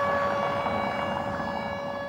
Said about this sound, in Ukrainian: Там на горі сирена